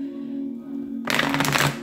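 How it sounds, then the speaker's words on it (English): A deck of tarot cards is shuffled up close, a short burst of crisp riffling and flapping that lasts under a second after a quiet pause. "last shuffle."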